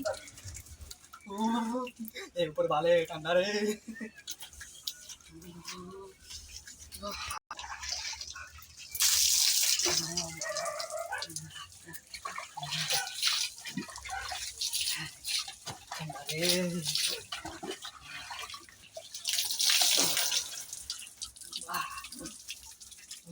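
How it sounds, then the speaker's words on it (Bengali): Hot water poured and splashing during a cold-morning bath, intermittent drips and splashes at close range alongside frequent talking. "গরম জলে স্নান করছে"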